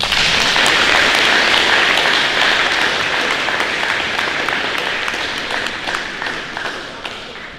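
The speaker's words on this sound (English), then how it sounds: "You could give them a round of applause." Middle school academic awards audience applauding honor roll students, loud continuous clapping from a large crowd that slowly tapers off.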